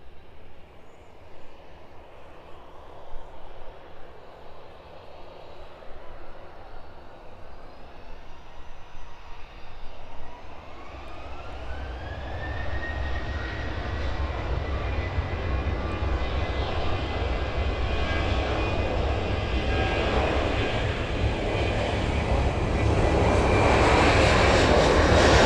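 Airliner engines at East Midlands Airport spool up for an evening departure, a low roar that rises into a rising whine and grows steadily louder over the runway.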